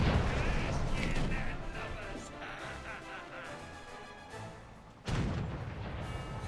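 Ship cannon fire in War Thunder naval combat, with dense rolling booms and blasts filling the whole stretch, a sharp fresh volley near the end, and a voice talking over the battle.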